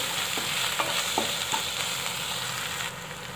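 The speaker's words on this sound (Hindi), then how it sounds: "अच्छे से मिला लेंगे" A spoon stirs spicy potato and egg curry in a hot pan, scraping in a few soft strokes over a steady sizzle of frying oil throughout.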